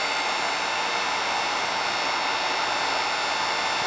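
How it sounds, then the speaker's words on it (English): Heat gun blowing hot air along the seam of a 3D-printed face mask, a steady, loud, hissing whoosh close by with no pauses or talk. "So just take the heat gun, and you're going to heat up along this seam here."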